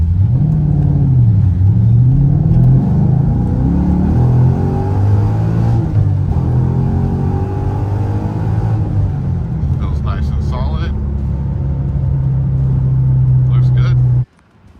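A Chevrolet Camaro SS with an LS3 V8, six-speed manual and new NGK ignition coils revs and accelerates through gears on a test drive, a loud continuous rumble rising and falling with engine speed, with cabin talk over it.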